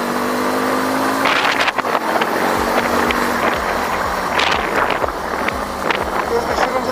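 A Nevada 250 motorcycle downshifts with a throttle blip while riding, its engine droning steadily under heavy wind rush, with a brief rev swell rising out of the continuous roar.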